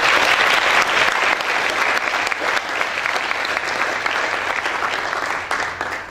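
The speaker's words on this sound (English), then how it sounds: "please give them a round of applause and thank you." Sustained applause from a panel audience, dense and steady throughout, fairly loud and close, with no talk over it.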